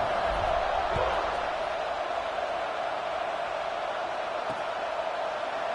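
A stadium crowd roars steadily in a college football game between Penn State and Iowa at kickoff after a touchdown. The cheering is a sustained, distant wash, with a couple of faint thumps beneath it.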